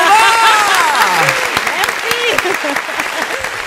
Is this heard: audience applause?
yes